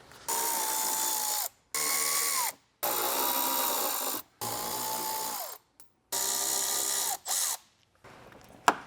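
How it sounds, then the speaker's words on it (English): Bolts coming out of a Toyota 4Runner with a 10mm socket, heard as a run of loud whirring bursts of a few seconds each from a powered ratchet, separated by brief silences. "We're gonna start off with our ratchet and our 10mm socket and get these bolts removed."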